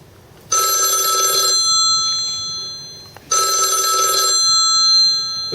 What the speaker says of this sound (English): as soon as you pick up your phone, the ringer is diminished in volume